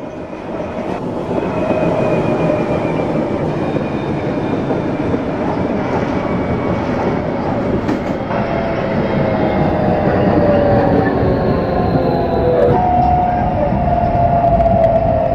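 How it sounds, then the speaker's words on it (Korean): A Korail subway train on Seoul Line 3 arrives at Daehwa Station in the train simulator game Hmmsim 2, rumbling steadily closer, its motor whine rising in pitch over a continuous rolling roar. "The train bound for Hanam City Hall is now approaching."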